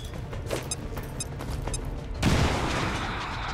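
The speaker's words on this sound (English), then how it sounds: "I'm gonna throw a grenade on him." A grenade blast in the XCOM 2 strategy game lands as a sudden loud boom about two seconds in, with a rumbling crash tail after a stretch of game effects and gunfire-like clatter.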